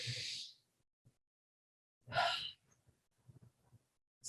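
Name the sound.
deep breath in during guided meditation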